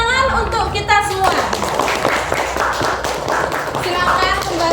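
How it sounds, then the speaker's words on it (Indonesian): Children in an Indonesian classroom clap together in a burst of rhythmic hand claps and taps, with a teacher's voice speaking over the start and chatter around it. "Beri tepuk tangan untuk kita semua."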